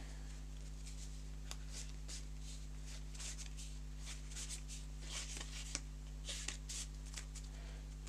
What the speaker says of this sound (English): We give it a shuffle